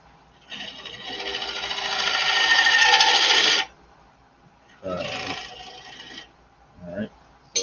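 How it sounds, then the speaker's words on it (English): Woodturning a square wooden bowl on a lathe with a point tool: a loud, sustained scraping and rasping cut of about three seconds, followed by two shorter cutting bursts and a brief scrape, with no talk. "let's try my point tool and see if that's narrower"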